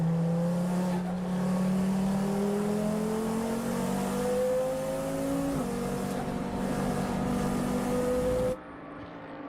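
A KTM X-Bow race car at a Slovakia Ring endurance race drones past with a loud, rising engine note, shifting gear midway before the sound cuts off abruptly near the end.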